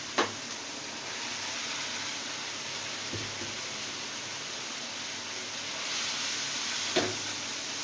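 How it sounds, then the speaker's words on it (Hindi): Mutton koftas dropped into frying masala give a steady, close sizzle, broken by a few sharp clinks of a spoon against the pan. "अब इसके अंदर मैं ये कोफ्ते डाल दूंगी।"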